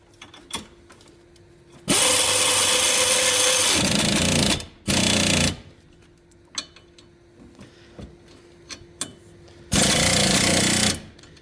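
A pneumatic impact wrench tightens front brake bolts on a FIAT during a brake job, firing in three loud rattling bursts of a few seconds each, separated by quieter workshop clinks and knocks.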